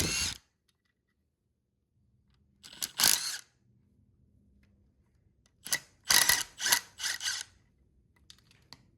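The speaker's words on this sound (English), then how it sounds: "I'm gonna take off the oil sump and the oil pump and start taking off all the main and rod bearings" Hand tools clack and scrape against metal while main and rod bearings come off a knocking truck engine, heard as one short burst and then a quick cluster of close, sharp clattering knocks over a quiet background.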